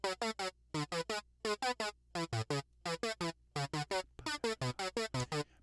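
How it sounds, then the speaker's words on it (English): A clean, dry staccato sawtooth synth arpeggio with no reverb or effects, playing short bright notes in quick repeating groups of three or four, each group separated by brief gaps, loud and alone. "So I found a sound and came up with what I call my little synth arpeggio"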